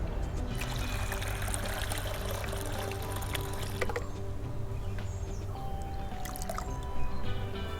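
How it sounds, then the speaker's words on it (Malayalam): Water mixed with homemade liquid fertilizer pours at the base of chilli plants in a soft, steady trickle and splash, fairly close and unbroken, with no talking. "ഇനി നമുക്കിത് ചെടിയുടെ ചുവട്ടിൽ ഒഴിച്ചു കൊടുക്കാം"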